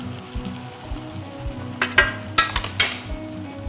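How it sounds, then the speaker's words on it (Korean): Beef sizzles softly in a hot pan while being stir-fried, with a few scraping and clinking utensil sounds against the pan. "오래도록 볶지 않고 쇠고기 붉은색이 허옇게 될 정도로 볶아주시면 돼요"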